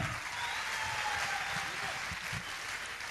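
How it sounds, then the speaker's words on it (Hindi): An audience at a Safe Shop business gathering applauds speaker Dashrath Singh, a steady wash of clapping heard somewhat distant and muffled, with a low murmur of voices underneath. "एक जोर से तालियां हमारे double diamond mister Dasharath Singh ji के लिए"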